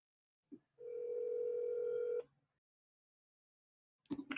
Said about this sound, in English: let me see if I can get a realtor on the phone while Trent's doing his thing